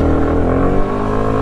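A Sym Cruisym 300 motorcycle pulls hard under acceleration, its engine a loud, continuous, close roar that holds for the whole stretch with no voices.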